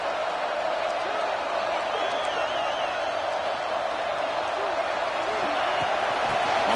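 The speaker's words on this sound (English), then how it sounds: "here comes the crowd noise." Steady, dense roar of a stadium crowd in a college football video game, Texas vs Mizzou, continuous and fairly loud throughout, with faint higher whistles or cheers rising above the wash.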